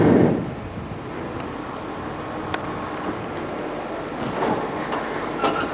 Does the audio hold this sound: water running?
no